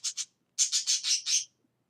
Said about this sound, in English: Sometimes my birds get noisy when I read